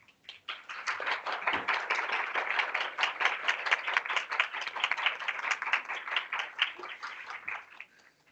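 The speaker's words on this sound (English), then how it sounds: "So please, principals, can you stand and give them a round of applause to start?" School principals stand and applaud at a district board of education meeting, a crisp, continuous round of many hands clapping in a fairly dry room that builds quickly, holds for about seven seconds, then fades.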